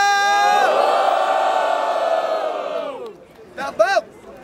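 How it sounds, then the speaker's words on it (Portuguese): A crowd at a rap battle roars with loud sustained cheering and shouting, fading after a few seconds before a short burst of whoops breaks out again. "Barulho só pra quem achou que foi Jump, família!"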